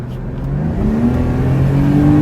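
A 1998 BMW 328i with a 190-horsepower six-cylinder engine accelerates hard at full throttle, its steady engine drone climbing in pitch as revs rise, loud and close inside the car with no talking.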